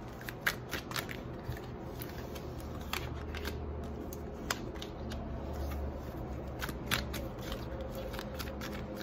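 Tarot cards shuffled by hand, a continuous run of soft riffling and crisp snapping flicks at close range, with sharper card slaps every second or so over a steady low room hum.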